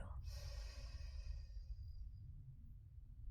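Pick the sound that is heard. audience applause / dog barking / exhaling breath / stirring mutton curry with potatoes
exhaling breath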